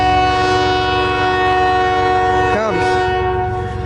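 CN 385 southbound freight train in Port Huron, Michigan, approaching loud and close on a Friday night with a steady rumbling roar of wheels and engine, a short horn blast sliding in pitch partway through.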